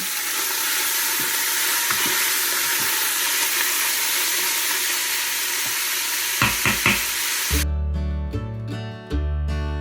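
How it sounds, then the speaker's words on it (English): Pork sautes in a pan with a steady, close sizzle and a few scraping stir clicks, then a burst of clattering knocks near the end as a green onion and ginger prep begins. "Now I'm gonna throw in my pork, and I'm gonna let this saute until it's no longer pink."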